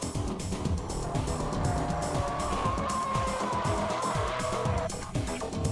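A BMW brakes mid-drift, its engine roaring and tires scrubbing in a loud, continuous burst of motor and tire noise.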